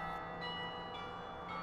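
Hand-played carillon bells ring softly from a tower in a sustained, overlapping wash of tones, faint and distant, with no voices.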